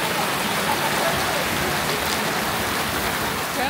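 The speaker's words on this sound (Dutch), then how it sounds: "als het heel hard regent" Heavy rain pouring down during the rainy season at a holiday resort, a dense, even hiss of drops hitting surfaces with no break, loud and close.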